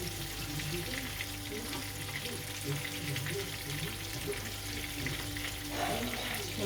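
Chicken meatballs sizzle steadily in a hot pan, a continuous close crackle of frying with occasional stirring and turning, no voice over it.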